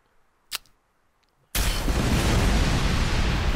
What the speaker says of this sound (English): Get those continuous explosions